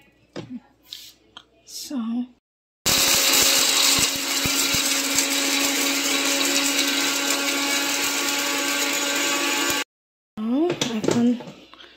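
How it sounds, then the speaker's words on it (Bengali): An electric grinder whirs loudly for about seven seconds, pulverizing a small batch of whole spices into fine powder in a home kitchen; a voice speaks briefly before and after the steady motor roar. "এখন এগুলোকে আমি গুঁড়া করে নিচ্ছি।"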